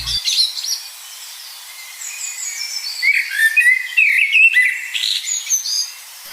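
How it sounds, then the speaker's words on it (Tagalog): Birds chirping in the morning: scattered high calls and short whistled trills, faint to moderate and somewhat distant, over a quiet background with no low rumble. "maririnig ang huni ng ibon"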